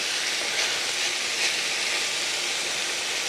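Beef stew meat browns in a pot with a steady, bright sizzle that holds even and fairly loud throughout, with slight swells and no talking.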